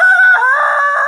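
A person imitates a piercing rooster crow with a voice, a single loud, close, tonal cock-a-doodle-doo that rises slightly and holds steady.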